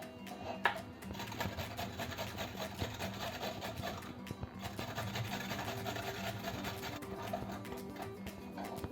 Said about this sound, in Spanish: Lo vamos a rallar por el lado más grueso.